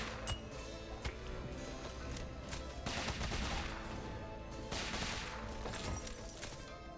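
Shooting in the Rogue Legacy 2 video game, rapid volleys of shots and crackling impacts coming in bursts over a constant busy game soundscape, at a moderate level.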